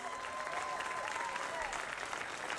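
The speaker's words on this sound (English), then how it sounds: "If you feel good, don't be afraid to clap your hands." A festival crowd claps along at a live jazz-festival concert, the dense, even clapping filling the space while a held musical tone and a voice sit faintly underneath.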